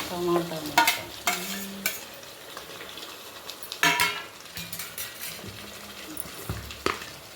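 Tomato pieces go into a sizzling curry and get stirred, with a series of sharp spoon scrapes and clinks against the pan over a low background fry.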